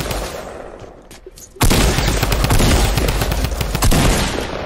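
Gunfire in a Fortnite match, a few sharp shots followed by a sudden loud stretch of sustained rapid firing, close and intense.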